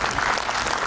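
Audience at a live event claps with both hands raised, a dense, steady wash of applause filling the whole moment at close range, with no pauses.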